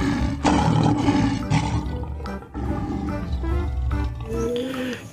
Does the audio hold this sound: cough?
no